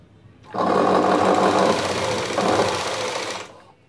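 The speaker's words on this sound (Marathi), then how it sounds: "मी शिलाई मारत आहे." Sewing machine stitching a blouse, a loud continuous whirring run of about three seconds that starts and stops cleanly, close up with no talk.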